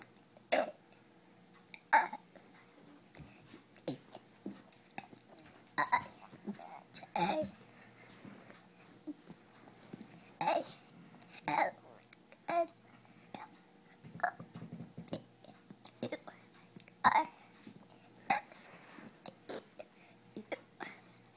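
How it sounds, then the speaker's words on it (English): A girl burping the ABCs produces a string of short, quiet belches at irregular intervals, separated by soft breathy pauses and faint background murmur. "she's amazing at one thing, and that is doing burping ABCs"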